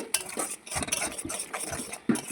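Food being stirred in a pan with a spoon, constant scraping and knocking strokes close by, with a few sharper clinks and a low background hum, no talking.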